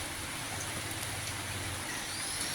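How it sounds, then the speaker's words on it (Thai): Heavy rain pours steadily in a rainy-season vegetable garden, a dense continuous hiss of drops hitting leaves and ground close by, with no talking. "อุ้ยฝนก็เริ่ม ตกหนักขึ้นกว่าเดิมแล้ว"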